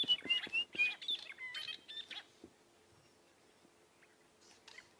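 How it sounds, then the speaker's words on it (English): White-browed scrub robin singing at sunrise in the Sabi Sand bush, a bright run of close chirps and whistled phrases in the first two seconds, then quieter scattered calls over a low steady hum. "in the background, the white-browed scrub robin"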